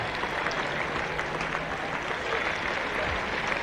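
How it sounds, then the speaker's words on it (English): Cricket crowd at Trent Bridge during a 1977 England v Australia Test match applauding as the score reaches 300, a steady wash of distant clapping that holds throughout. "The applause not for the throw, but the fact that the 300 goes up."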